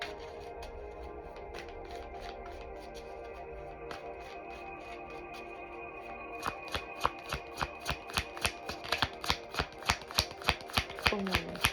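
Tarot cards being shuffled, first soft rustling, then a quick run of crisp riffle snaps growing louder and faster toward the end.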